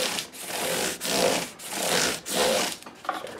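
A scrub block rubs back and forth along the fingerboard of a 1963 Dot Neck 335 guitar, giving rhythmic, close, raspy strokes roughly every half second with brief pauses between passes.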